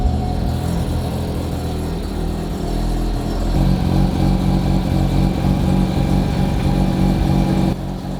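A Corvette fitted with a boosted rotary engine runs steadily, a loud, even mechanical drone that swells slightly partway through and dips near the end, with no voices over it.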